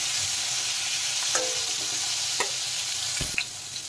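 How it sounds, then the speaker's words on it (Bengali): Sliced pointed gourd frying in oil over a medium gas flame, a constant hiss with a few light clicks and scrapes of stirring, no voices. "এখন পটল পটলগুলো ভেজে তুলব"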